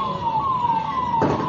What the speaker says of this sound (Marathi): हे जे सायरन वाजते ना अँब्युलन्सची